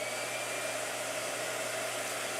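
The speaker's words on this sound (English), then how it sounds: "Blow dryer." A blow dryer roars steadily at close range, drying waterproof ink on a painting, a constant whooshing fan noise with no talk.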